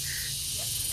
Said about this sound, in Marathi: रातकिडे ओरडतात ना, तसा आवाज येतोय कंटिन्यू इथे